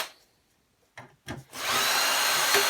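After a few short handling knocks, a power drill whirs up loud and steady, backing out the Phillips screws on a Bush DVD player.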